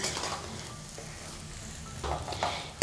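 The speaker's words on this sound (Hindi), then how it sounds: "आलूओं को चलाते हुए 6 से 7 मिनट घी में भून लें।" Potatoes fry in ghee for potato halwa, giving a soft, steady sizzle with occasional scraping bursts as they are stirred in the pan, with no voices present.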